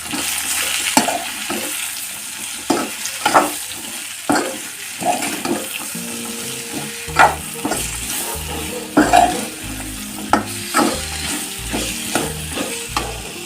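Ivy gourd (tondli) with salt, coriander and cumin powder stirred and fried in oil, with repeated scraping spoon strokes in an irregular rhythm over a soft background sizzle.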